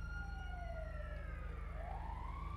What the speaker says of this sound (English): There's an ambulance there.